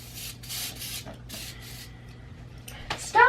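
Disinfectant spray hisses out of a can in several short bursts, a breathy rushing noise heard fairly close, followed by a brief sharp sound at the end.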